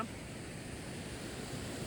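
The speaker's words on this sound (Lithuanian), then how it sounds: "Krioklys." A small waterfall gives a steady, soft broadband rush of falling water, faint and continuous throughout.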